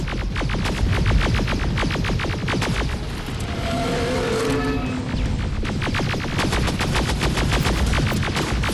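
Rapid automatic gunfire in the Terminator: Resistance video game, loud and close, sustained bursts of fast rhythmic shots with a brief lull near the middle before firing resumes.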